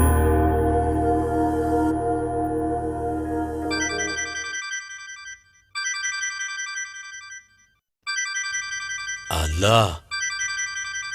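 A phone ringtone plays in repeated melodic bursts separated by short gaps, ringing on unanswered, while a voice speaks briefly over the opening and music plays beforehand.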